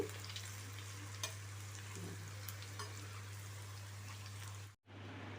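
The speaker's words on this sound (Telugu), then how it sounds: "నేను ఆయిల్ తాలింపు చేసిన ఆయిల్ దీంట్లో వేసేసాను ఇట్లాగా చూడండి" Hot tempering oil is poured into grated raw mango pickle and sizzles softly, a faint crackling fry under a steady hum, cut short near the end.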